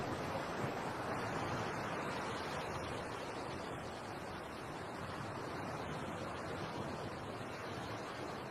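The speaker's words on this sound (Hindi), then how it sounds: "अपनी आंखें बंद कर समुंदर की लहरों को सुनकर मुझे शांति मिलती है" Sea waves wash ashore in a steady, dense roar that stays close and even throughout, with no voices.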